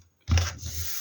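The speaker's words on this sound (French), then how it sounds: "On vient marquer les plis" A tool scoring a fold line across paper-covered cardboard for a scrapbook album, one short close rasping scrape after brief silence.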